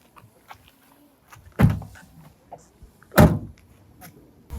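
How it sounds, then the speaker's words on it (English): Two heavy thuds a second or so apart, the second louder, as a 1987 Citroen 2CV6 door is shut, with quiet rustling and faint movement around them. "See if I can try and shut this door."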